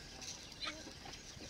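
Desi country chickens clucking on a farm, faint and distant, a couple of soft clucks against quiet outdoor background.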